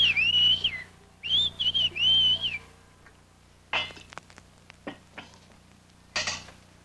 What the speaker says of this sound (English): She's saying that she can whistle, but in a different dialect.